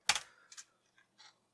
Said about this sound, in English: let's try typing in a basic program to see if we can test out our basic skills